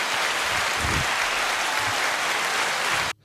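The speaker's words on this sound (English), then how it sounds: "Yeah, that's a clap." Loud, dense applause fills the room after an engagement announcement, steady and close, then cuts off abruptly near the end.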